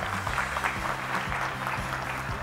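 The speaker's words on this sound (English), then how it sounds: "Let's give them a round of applause." Audience applause at a science talk, a steady wash of clapping filling the room, with low voices and murmurs running underneath.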